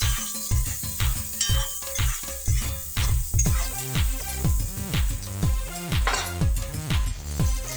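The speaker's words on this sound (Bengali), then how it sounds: "ভালোভাবে নেড়ে চেড়ে ভেজে নেব।" Eggplant frying with salt and turmeric in a pan, stirred with a utensil that clinks and scrapes rhythmically against the metal about twice a second, close and loud over a soft sizzle.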